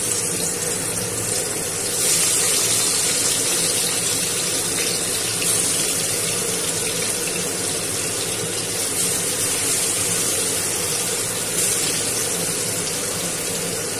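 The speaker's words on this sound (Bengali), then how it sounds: "এই দেখুন বন্ধুরা, তেলটা গরম হয়ে গেছে। এবার আমি এই চিকেনটাকে প্রথমে ভেজে নেব।" Marinated chicken pieces frying in hot oil make a steady, loud sizzle and hiss that runs unbroken throughout, with no talking.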